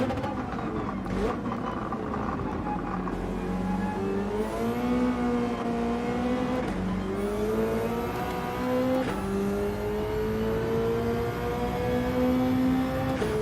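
A car engine in Gran Turismo 7 revs steadily higher toward 8,000 RPM through several gear changes, its whine climbing in stepped pitch sweeps, with someone talking over it.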